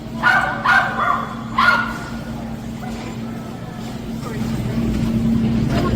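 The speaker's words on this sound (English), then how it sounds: "Yes, my friend's dog." A dog barks two or three times up close in a Walmart produce section, with a constant low machine hum underneath and background talk.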